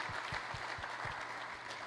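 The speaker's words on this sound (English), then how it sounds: "So give a big round of applause to Brian and the antenna team and Randy." A crowd at a ham radio Field Day summary gathering claps steadily, dense applause filling the room for a couple of seconds without voices.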